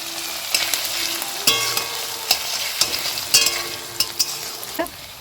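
Onions fry in a pan with a pinch of salt, sizzling steadily while a utensil scrapes and taps against the metal at irregular intervals, up close and without talk.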